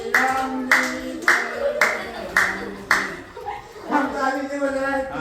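Hand clapping in a classroom during a devotional bhajan, a steady series of sharp claps about every half second, mixed with singing voices and talk.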